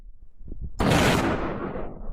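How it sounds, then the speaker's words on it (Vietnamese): A single loud gunshot from an old large-calibre bolt-action rifle in the mountains cracks sharply and then rolls away in a long, thunderous echo that fades slowly over a couple of seconds. "kèm theo tiếng nổ đoàng vang lên như sấm sét xé trời"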